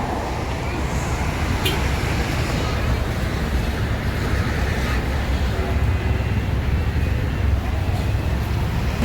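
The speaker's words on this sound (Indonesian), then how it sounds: "Ya, bus lintas masuk." A long-distance intercity bus rumbles into an overcast bus station with a steady, heavy low engine roar and road noise, close by and continuous throughout.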